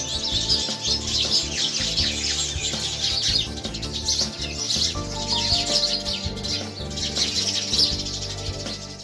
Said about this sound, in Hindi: इस परिवार ने अपने घर में हजारों गौरैयों का घोंसला बनवाया है।